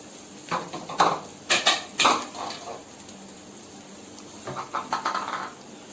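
A spoon scrapes and clinks against a cooking pot as chili powder and spices are stirred into a Mangalorean sambhar curry, with irregular close clatters in two bursts and quieter scraping between, no talking.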